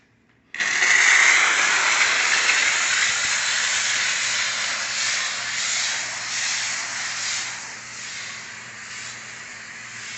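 A Dupray NEAT steam cleaner working on a sofa, chairs and glass-top tables: a loud steam hiss bursts on abruptly and then holds steady for about ten seconds, wavering slightly, with no talking over it.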